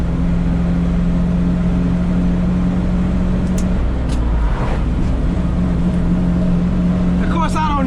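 A loud 10-speed truck engine with high and low range idles and runs with a steady low rumble, during corn harvest on a hot day, with brief clunks and rattles as gears shift and faint noise near the end.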